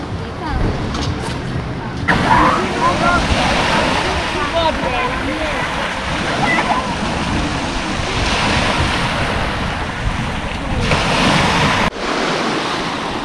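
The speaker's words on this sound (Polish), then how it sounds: "Dzisiaj dosyć mocno widzę, że wiatr wieje. Jest mocna fala." Strong wind roars against the microphone over the steady wash of breaking sea waves on a beach, loud and continuous throughout.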